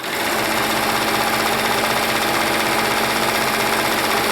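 A sewing machine stitches an appliqué onto a garment, a continuous loud, fast, even whirring run held close throughout with no pauses or voices.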